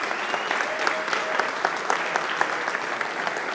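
An audience at a town spring fundraiser gives a round of applause for the town supervisor, a brisk, even burst of many clapping hands with a few faint voices mixed in.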